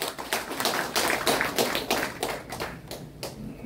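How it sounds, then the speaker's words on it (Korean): Small audience at a solo calligraphy exhibition in an Insadong gallery claps in a sparse, uneven patter of individual hand claps, close and moderately loud, thinning toward the end. "큰 박수 환영해 주시면 고맙겠습니다."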